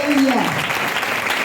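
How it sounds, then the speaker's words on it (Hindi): A church congregation at an Urdu/Hindi Easter service bursts into loud, sustained applause and cheering, a dense wash of clapping with a brief sung or shouted voice at the start. "आइए जिंदा यीशु के लिए जोरदार तालियां बजाएं"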